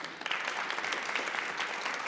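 Steady applause from a school spelling bee audience for the finalists' spellers, dense clapping throughout with no talk over it.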